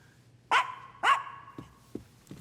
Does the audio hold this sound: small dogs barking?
yes